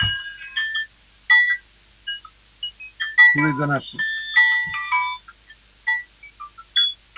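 A jal tarang, a set of tuned water-filled bowls, rings out in bright, sparse struck notes that shimmer and fade, with a brief spoken word among them.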